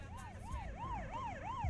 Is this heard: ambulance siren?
yes